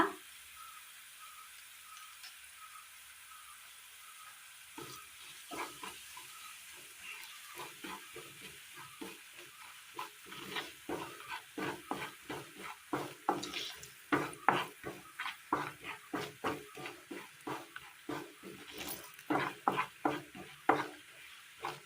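Chilli, coriander, turmeric and chicken masala powders roast in a pan for a Kerala kadala curry, a faint sizzle at first, then a quickening run of close scraping, stirring taps and clinks of the spoon against the pan.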